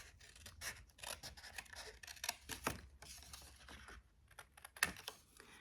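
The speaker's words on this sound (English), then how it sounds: "So we're going to cut that on our second score line." Scissors cut through Stampin' Up! cardstock along a score line while a one-sheet box is being made, giving a quick run of crisp, close snips and paper rustles at varying loudness, with no talking.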